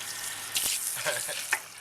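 Running water rinsing soap out of a person's hair during a haircut wash, a steady spray with splashy bursts, close and moderately loud.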